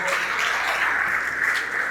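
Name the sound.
applause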